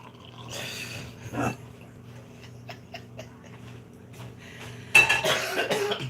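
A couple of short, rough coughs break out in a quiet room, with faint clinks and clatter of dishes scattered between them.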